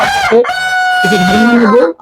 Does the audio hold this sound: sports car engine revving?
no